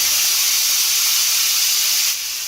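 Loud, steady sizzling hiss of a home-ground masala paste frying in hot oil for an egg curry, easing slightly just before the end.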